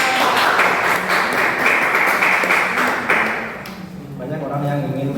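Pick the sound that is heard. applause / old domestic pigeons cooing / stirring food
applause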